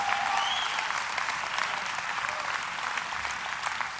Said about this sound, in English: Clap, man, help me out here.